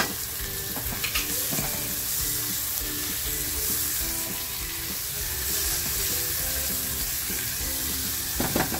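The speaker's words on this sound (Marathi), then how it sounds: "आणि आपल्याला ना टॅमॅटो तर छान म्हणजे त्याच्यामधून मिक्स झाला पाहिजे इथपर्यंत छान फ्राय करून घ्यायचं" Tomatoes with salt fry in a pan of masala for oyster masala, giving a steady close sizzle with occasional stirring scrapes throughout.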